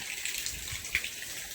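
A tap runs at home, giving a faint, steady splashing hiss of flowing water with no voices over it.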